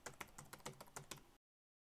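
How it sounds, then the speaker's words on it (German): Laptop keyboard typing clatter recorded on a ModMic USB: about eight quick, light key clicks in an uneven run, close and fairly faint, then silence. "ModMic USB klappern Laptop-Tastatur"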